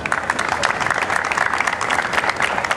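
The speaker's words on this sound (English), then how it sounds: "Can we give him a round of applause for this?" An audience at a half marathon event applauds in a dense, steady burst of clapping for a few seconds, with no speech over it.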